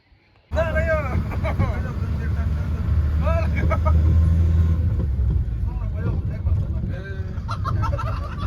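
A bus engine rumbles at a busy bus station at a weekly market, starting abruptly and running loudly throughout, with shouting voices and crowd chatter layered over the low drone.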